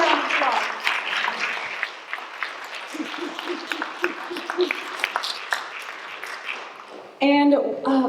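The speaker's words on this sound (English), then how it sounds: "give them a round of applause." Audience at a Left Forum discussion applauding the speakers, a sustained burst of many hands clapping at moderate loudness, with voices talking over it and a louder voice cutting in at the end.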